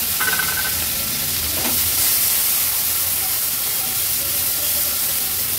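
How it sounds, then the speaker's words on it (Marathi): Corn kernels sautéing over high flame in a spoonful of oil in a pan on a gas stove give a steady, close sizzle and hiss, with a brief stirring scrape near the start and no voices. "आता हे कॉर्न आणि मक्याचे दाणे आपण तेलावर परतून घेऊया."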